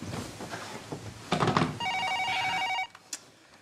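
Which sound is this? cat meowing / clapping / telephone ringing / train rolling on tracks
telephone ringing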